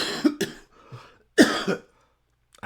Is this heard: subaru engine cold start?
no